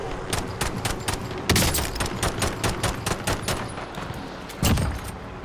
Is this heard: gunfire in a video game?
yes